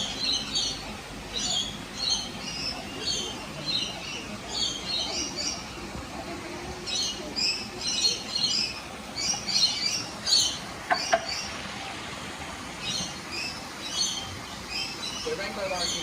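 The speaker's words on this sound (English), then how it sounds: "So rainbow lorikeets are a very common species to find pretty much everywhere throughout Australia" Rainbow lorikeets at a wildlife reserve in Australia keep up a busy chatter of sharp, high chirps and screeches in repeated bursts. Other birds join in, and faint background noise sits underneath.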